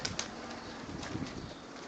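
Racing pigeons in a loft give faint low coos over a steady hiss of background noise, with no voices.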